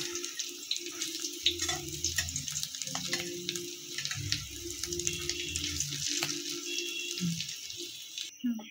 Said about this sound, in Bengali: দেখুন বড়াগুলো লাল লাল করে ভেজে নিয়েছি